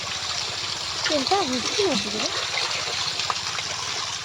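Water flows steadily out by a river at the Kundeshwar temple, a continuous outdoor rushing wash, while someone talks over it through the middle.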